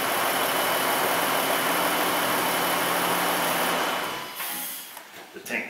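A Dodge Grand Caravan engine, running with a cylinder misfire fault, runs steadily close by and then cuts off, followed by faint clicks and rustling.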